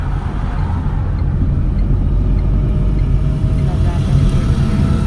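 A car in motion during a driving lesson, with a steady low engine and road rumble throughout, and an instructor's voice speaking over it.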